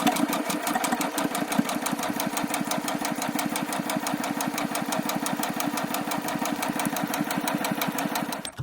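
Domestic sewing machine running steadily while stitching a quarter-inch French seam in fabric, a fast, even, close mechanical rattle that continues unbroken for several seconds before stopping abruptly.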